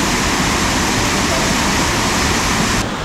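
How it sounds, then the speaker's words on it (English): Johnson River Falls pours in a dense, continuous broadband roar of falling water, loud and close, with no break for its whole length. "I found the waterfall. You can probably already hear it."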